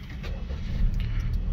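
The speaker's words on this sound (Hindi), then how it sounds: "गाड़ी को करते हैं स्टार्ट, तो पुश स्टार्ट बटन यहाँ पर मिलेगा, तो स्टार्टिंग भी देख लें" Daihatsu Cast 660cc small car started with its push button: a brief low cranking rumble catching into a steady idle, close and fairly loud, lasting under two seconds.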